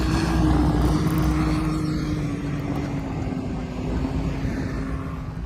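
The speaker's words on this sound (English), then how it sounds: "Driving the Cybertruck at the sand dunes with paddle tires." Tesla Cybertruck fitted with paddle tires drives across sand dunes, a steady loud engine-like drone with a low tonal hum holding continuously throughout, no talking.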